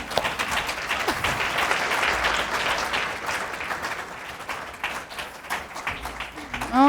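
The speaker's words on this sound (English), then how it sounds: "I think this begs a round of applause" Sustained applause from an audience at an art fair prize ceremony in Basel, strong at first and gradually thinning out, with a few voices near the end.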